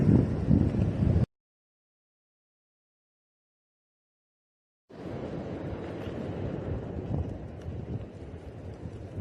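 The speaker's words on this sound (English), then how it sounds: "Nice and breezy out here today, you all." Wind gusts buffet an outdoor microphone in loud rumbling bursts, cutting to total silence for several seconds before a steadier breezy rush returns.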